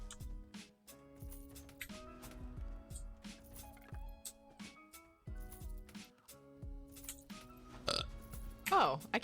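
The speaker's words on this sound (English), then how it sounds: "Oh, I can burp on command still." A streamer burps on command during an Elder Scrolls Online session, a low rumbling belch amid game clicks and soft chimes, with the voice talking around it.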